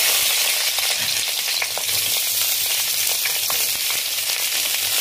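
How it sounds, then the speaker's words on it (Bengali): Vegetables for a Bengali dudh shukto sizzle and fry steadily in oil in a pan while being stirred, with occasional scraping clicks over a continuous, close frying hiss. "এগুলো হয়ে গেছে, এবার আমি নাড়ছি।"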